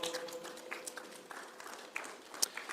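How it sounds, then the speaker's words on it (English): Church congregation applauds in a loose, uneven patter of claps, some sharper hits standing out, fairly distant and modest in volume with no talking over it. "You can applaud."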